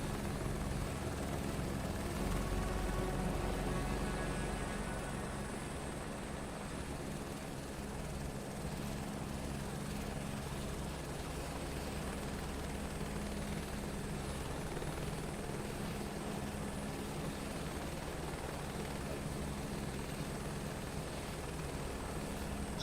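AirWolf helicopter in Microsoft Flight Simulator 2024 career mode, a continuous loud rotor and turbine drone holding steady throughout, heard alone.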